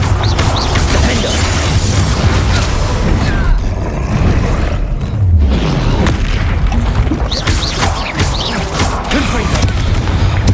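Spell explosions booming in Hogwarts Legacy combat, with Confringo and Bombarda blasts and Protego shielding: dense, continuous loud bursts and crashes layered over a busy game soundscape, with heavy low rumble throughout.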